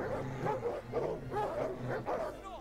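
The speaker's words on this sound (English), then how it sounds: "Oh, they do have dogs." War dogs in the Total War: Thrones of Britannia siege battle barking in repeated excited bursts, several barks and yips in quick succession over distant battle ambience.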